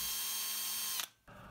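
A drill motor whines steadily at close range boring a hole in a plastic power tool body, cuts out abruptly, and after a short silence the motor noise resumes.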